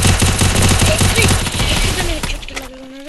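Rapid gunfire in a video game: a dense, loud burst of automatic shots in quick succession. It thins into a few scattered pops, and a short whistling tone rises at the end.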